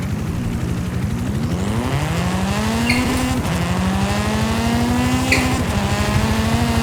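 A racing car engine in Forza Horizon 5 droning loud and steady, climbing in pitch through the gears with brief shift dips and a faint tire squeal, with no talk over it.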